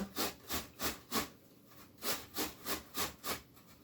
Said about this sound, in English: we're going to grate these guys down too